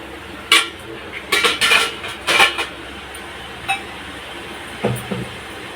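Metal idli plates clink and clatter as they are set into a steamer pot, several sharp knocks in quick succession, then a few lighter taps.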